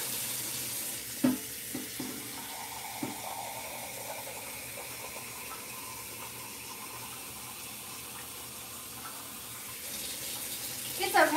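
Water runs steadily from a kitchen tap to fill a container before cooking, a continuous close rush lasting about ten seconds with a few faint clicks and knocks and no talking.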